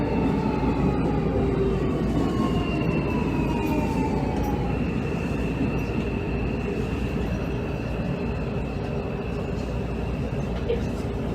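Hanshin 5700 series train, car 5802, running between Kusugawa and Amagasaki Center Pool-mae, heard from inside: a steady loud rolling roar of wheels on rails with rising and falling motor whine tones throughout.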